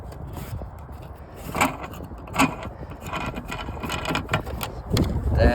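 A car's scissor jack being unscrewed from its mount under the hood, giving intermittent metallic clicks, scrapes and ratcheting clanks at close range, irregular and moderately loud.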